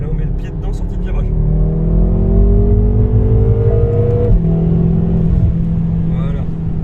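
BMW M5 with a 560 hp engine accelerating hard out of a bend, a loud, steady rising engine note that climbs through the gears with a shift partway, heard from inside the car under a talking voice.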